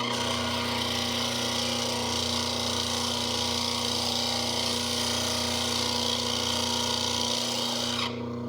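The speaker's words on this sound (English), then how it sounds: "And there's the rock polisher that I made out of a garbage disposal." A homemade rock polisher built from a garbage disposal runs with water flowing through it, making a steady, loud, droning whir with a constant hum that holds evenly before cutting off abruptly near the end.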